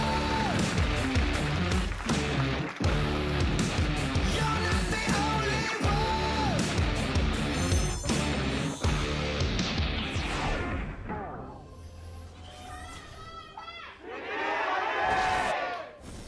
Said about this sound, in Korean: 여러분 뜨거운 박수로 2세트 대결을